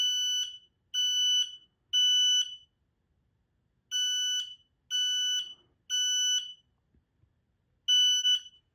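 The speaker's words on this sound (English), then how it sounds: "So as you can see, the smoke levels are too high, and the alarm sounded again." An X-Sense SC07-W Link+ combined smoke and CO alarm sounding nearby, loud piercing beeps in groups of three separated by short pauses, repeating with nothing else audible.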